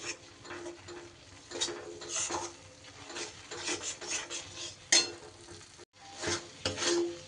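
Dal with spices being stirred and fried in a pan, a steady sizzle under repeated scraping strokes of a spoon against the pan, close and continuous.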